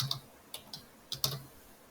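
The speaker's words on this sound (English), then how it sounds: "Let's type in landing." Typing on a computer keyboard while entering a label in design software, a few quiet separate key clicks spaced irregularly over two seconds, close and faint with no talk.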